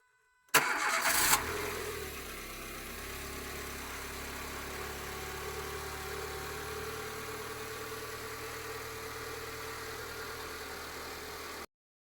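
A car engine is started at a home repair spot: a brief cranking burst, then the engine catches and settles into a steady mid-pitched idle that runs for about ten seconds before cutting off abruptly.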